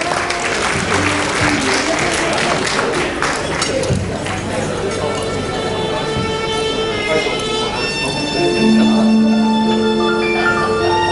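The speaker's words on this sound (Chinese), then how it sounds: "掌声鼓励。" An audience breaks into applause during a performance of a song, a sustained wash of clapping that later gives way to ringing, held musical tones.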